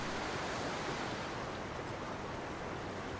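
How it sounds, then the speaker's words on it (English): Yosemite Falls, a tall waterfall pouring off a granite cliff where a creek drops from a hanging valley, gives a steady, loud broadband roar with no breaks and no voices. "Yosemite Falls is one of the tallest in the world."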